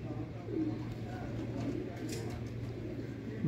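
Rooftop pigeons in Sialkot coo softly and intermittently over a low steady hum, faint and close-miked.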